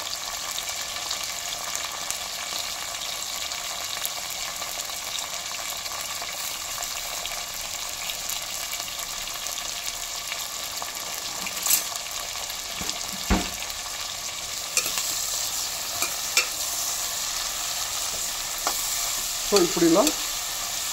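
Onions sizzle steadily in hot oil for a tamarind chutney, a dense, even frying hiss heard up close, with occasional scrapes and knocks of stirring toward the end. A voice speaks briefly.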